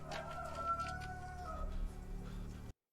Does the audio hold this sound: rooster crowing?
yes